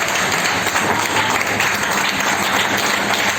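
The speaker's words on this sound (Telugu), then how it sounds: "గట్టిగా యేసుకి చప్పట్లు కొడదాం అందరం." A Pentecostal church congregation claps loudly for Jesus during a prayer service, a dense, sustained round of applause from the whole gathering.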